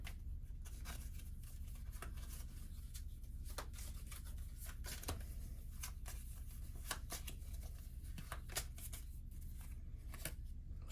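Cards for the Bardsung board game are shuffled in a steady run of riffles and flicks lasting several seconds, with close, crisp papery snaps over a low background hum and no voices.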